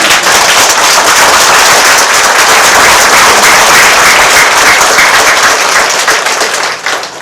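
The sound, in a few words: audience applause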